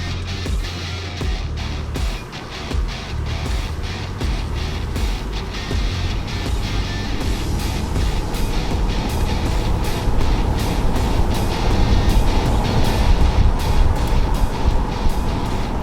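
A used Range Rover Sport drives along, its steady road and engine rumble filling the cabin with dense low-end noise that builds slightly louder toward the end, with no one talking.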